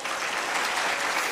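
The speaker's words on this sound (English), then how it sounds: "I request you for another huge round of applause" Dense, even applause from a large audience at a management summit, a continuous bright patter of many hands at steady loudness throughout the short stretch.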